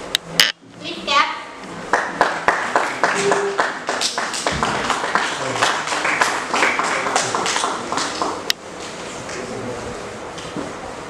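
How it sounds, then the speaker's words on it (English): An audience at a school Teachers' Day celebration breaks into clapping, starting with a few sharp claps and swelling into sustained applause by many hands that trails off, with a voice speaking briefly over it. "Please clap."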